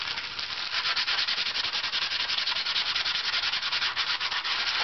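Dutch rush being rubbed over the top plate and bass bar of a stringed instrument, a steady, dense scratchy rasp with quick rhythmic back-and-forth strokes, close and continuous with no voices.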